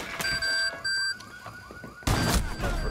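A Rainbow Six Siege proximity alarm gadget beeps in a repeating electronic pattern of steady tones, then a burst of louder gameplay noise cuts in near the end.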